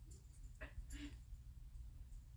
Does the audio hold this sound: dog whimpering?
yes